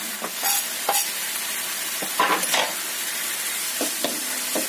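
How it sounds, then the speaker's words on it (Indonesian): Mashed tofu and spring onions being stirred in a frying pan, a spatula scraping in irregular strokes over a soft steady sizzle, close and moderately loud with no voices. "Aduk hingga semuanya tercampur rata"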